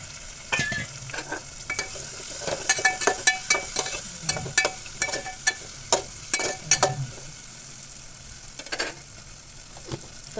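Cut brinjal pieces fry in a pan for a Maharashtrian vegetable dish, a steady sizzle under repeated scraping, clinking stirs of a spatula against the pan, close and alone without talk.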